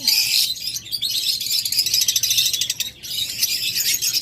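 A pair of cobalt opaline birds kept for sale, chirping in quick bright bursts that run almost continuously, fairly close and loud, with no voices over them.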